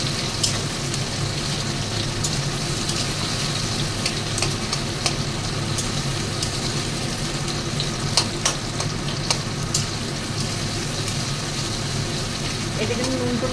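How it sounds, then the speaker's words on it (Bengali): Sliced onions frying in hot oil for chicken biryani, a steady dense sizzle with occasional crackles and pops, close and continuous throughout with no talk over it. "কিছুটা পেঁয়াজ আমি ভেজে তুলে রাখবো রেস্তা বানানোর জন্য।"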